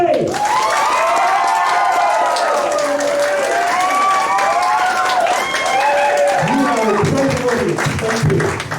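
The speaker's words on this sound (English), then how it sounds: "enjoy the applause of the audience" Audience applause and cheering fill a hypnotist show at a senior class party, a steady wash of clapping with excited voices and shouts riding over it throughout.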